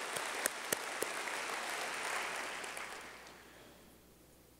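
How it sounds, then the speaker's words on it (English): Audience applause for a city transit board at a State of the City address, a steady roomful of clapping that sustains for about three seconds, then thins and fades away. "So let's give our transit board a big round of applause"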